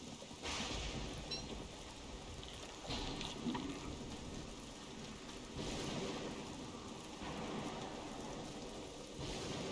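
Rain pours steadily in the Don't Starve Shipwrecked video game while thunder rumbles softly underneath. The storm sounds faint and distant, with gentle swells in intensity and no voices.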